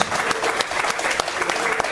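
Loud, continuous clapping from a church congregation, thick and even throughout with brief sharper claps standing out, and a hint of voices underneath.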